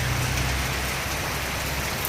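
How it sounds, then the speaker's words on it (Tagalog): Steady, dense rain pouring down on a rice field, a constant close hiss of drops on surfaces with no voices. "Ang ulan."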